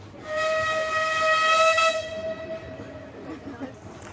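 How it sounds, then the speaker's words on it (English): Ravenglass and Eskdale Railway miniature train sounding a loud, sustained whistle for about two seconds, with a softer rumble of the running train continuing beneath afterward. "Isn't that the cutest train you've ever seen?"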